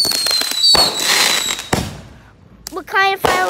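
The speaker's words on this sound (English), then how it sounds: "There's our fireworks." Fountain fireworks spray and crackle at night in a loud, close burst, with sharp pops and hissing shimmer that fade and flare again while a voice briefly speaks near the end.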